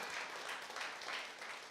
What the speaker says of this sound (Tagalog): Palakpak muna nga natin ang ating mga kamay sa ating Panginoon